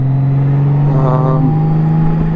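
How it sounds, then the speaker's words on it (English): A 2018 Honda Goldwing Tour motorcycle being ridden on the road, a steady low engine drone with a brief rise in revs midway, close and continuous throughout. "we're riding, I'm on a 2018 Honda Goldwing Tour"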